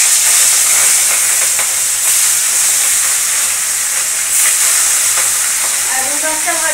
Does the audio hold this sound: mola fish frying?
yes